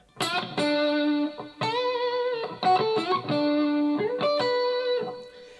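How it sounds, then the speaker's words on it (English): Sustained electric guitar notes ring out one after another, each long and bent slightly, trailing into a spacious wash of delay and reverb. "delay and reverb on the guitar"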